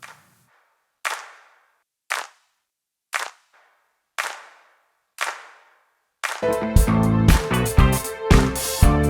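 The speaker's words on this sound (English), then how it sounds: "Harmonizer really adds a lot of doubling on the hand claps with the pitch shift and the delays." Six sharp hand claps ring out one by one with reverb tails, then a dense burst of claps doubled and layered by harmonizer pitch shift and delays, like a large crowd applauding.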